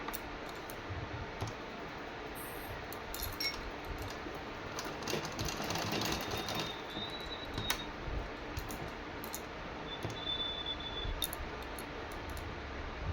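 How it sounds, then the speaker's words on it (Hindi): A sewing machine stitches a suit with a steady, rapid run of light mechanical clicks and whirring that lasts the whole stretch, fairly close, with no talking. "अब लगाऊंगी मैं दूसरी साइड सिलाई।"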